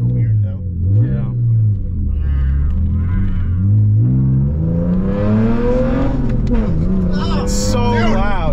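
A BMW E46 wagon running without a muffler roars loudly from inside the cabin, its exhaust rumbling and rising as the engine revs, with people talking over the din throughout.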